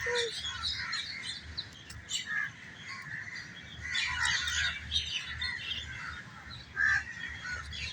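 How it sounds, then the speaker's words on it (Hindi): Several birds chirp and call outdoors at moderate distance, overlapping tweets and short squawks over a low background rumble, with no talking. "सिर्फ परिंदों की आवाज़ें रिकॉर्ड कर लें"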